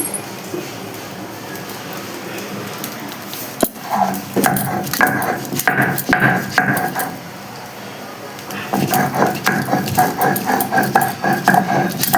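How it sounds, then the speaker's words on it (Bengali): Ginger being ground into a paste by hand for a Bengali egg and potato curry, heard as steady rhythmic scraping and knocking of stone or wood, close and fairly loud, with a brief pause partway through. "এখন রসুনটা বেটে নিয়েছি, এবার আদাটা বেটে নেব।"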